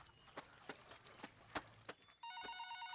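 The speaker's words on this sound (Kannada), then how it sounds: "ಫೋನ್ ರಿಂಗ್ ಆಗ್ತಾ ಇದೆ ಅಂದೆ" A household telephone in a comedy film scene starts ringing after a few soft taps or footsteps, its bright electronic ring loud and steady near the end.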